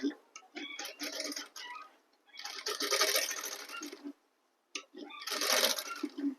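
A sewing machine stitches a suit in short runs, its rapid needle clatter starting and stopping several times with brief pauses between bursts, close and fairly loud, with no talking.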